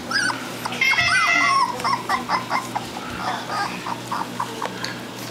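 Puppies whimper and yip nearby in a high, thin stream of cries, with a longer whine at the start followed by short, repeated yelps.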